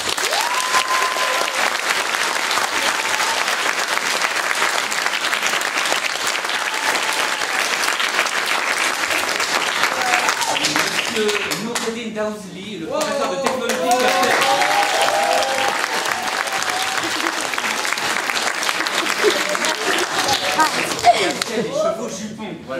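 Theatre audience at a school staging of Anouilh's L'Alouette clapping in a long, sustained round, with someone speaking over the applause midway while it carries on.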